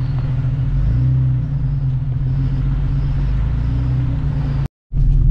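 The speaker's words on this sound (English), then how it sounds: "I'm just driving." A vehicle drives on a dirt road near Moab, giving a steady, loud low engine and road rumble that runs continuously before cutting out briefly near the end and returning.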